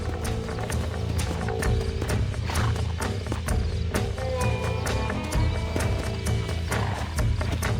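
Horse hooves clip-clopping in the western game Red Dead Redemption, a busy mix of rhythmic hoof thuds alongside animal noises and ambient game sound, with no clear speech.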